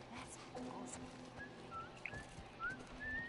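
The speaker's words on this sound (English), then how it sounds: "I'm whistling" Whistling in The Last of Us game: a few thin rising whistle notes in the second half, faint over a steady background hum with some talk.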